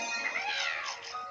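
A cat meows in the Super Mario 3D World video game, a single drawn-out, fairly faint meow with a wavering tone lasting just over a second.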